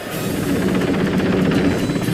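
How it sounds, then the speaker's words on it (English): A rescue helicopter hovering near a thousand-foot cliff face during a winch rescue, its rotor producing a loud, close, rapid rhythmic chop over a steady engine roar, with no voices. "The chopper crew winches Paul and Gibson closer"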